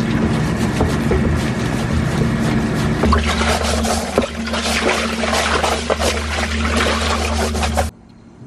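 Water running steadily through the plumbing of a hydroponic greenhouse system, a constant rushing flow with a low hum beneath it, close and continuous before cutting off near the end.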